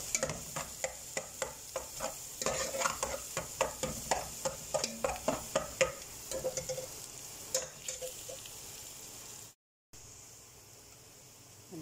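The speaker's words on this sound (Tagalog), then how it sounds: "Nagisa na tayo ng bawang at saka sibuyas, bombay." Garlic and onion sizzle steadily in a hot pan while a utensil stirs in rhythmic scraping strokes, then a brief pause before the sizzling resumes.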